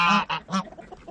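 Farmyard geese honk in a quick series of nasal calls at close range: two strong honks, a third loud one, then softer trailing calls, with no voices.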